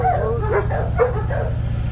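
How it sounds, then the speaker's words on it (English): Several dogs barking excitedly outdoors near an idling Honda Talon off-road vehicle, a quick run of yips and whimpering barks close by over a steady low engine rumble. "all the dogs are going to go nuts because they want to chase this thing"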